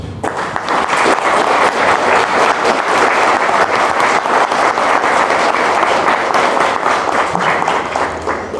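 Sustained applause from an audience at the close of a Portuguese-language talk on depression, dense and steady clapping at full loudness for the whole stretch with no speech over it.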